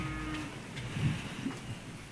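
Bullocks lowing at the Bail Pola festival, a low drawn-out moo swelling near the middle against a murmuring outdoor background, with another brief call after it.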